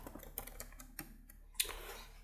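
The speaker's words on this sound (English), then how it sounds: "Let me type it in full so you will understand." Keys tap on a computer keyboard in a quick, uneven run of soft clicks, faint and close, with one sharper keystroke near the end.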